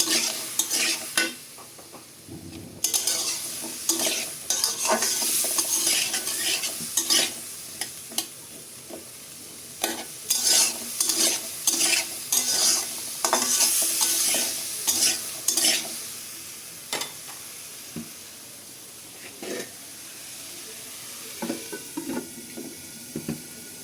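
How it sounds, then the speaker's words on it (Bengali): Steady oil sizzle with frequent scraping and clinking of a utensil stirring frying potatoes in a pan, no talking. "আলু ভাজা হয়ে আসছে, আলুটা তুলে রাখবো আমি।"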